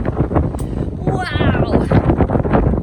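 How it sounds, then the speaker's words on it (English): Strong wind buffets the microphone with a loud, continuous roar at the top of the Pilgrim Monument in Provincetown, while people talk over it. "It is windy."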